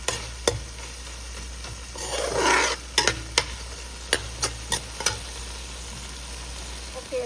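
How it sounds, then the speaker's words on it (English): Lamb liver fries in a pan with a soft sizzle, scraped by a utensil in a few sharp, scattered strokes and one longer stir. The sound is close and there is no talk. "So we have to cook the liver first because it's raw."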